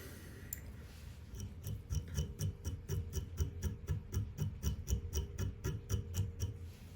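Small scissors snip fly-tying material on a bruised leech pattern in a quick, even run of about twenty close, crisp cuts over a faint low background hum.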